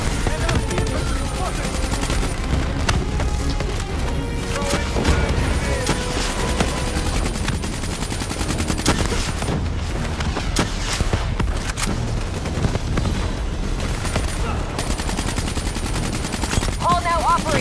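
Heavy, continuous automatic gunfire in the video game Call of Duty Black Ops 3, with loud, dense rattling bursts from several weapons and booming hits that run throughout, while voices call out over the battle.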